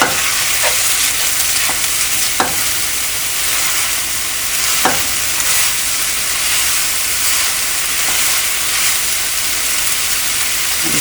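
Steady, loud sizzling of mashed rohu fish frying in hot oil in a pan, with occasional stirring scrapes and pops throughout.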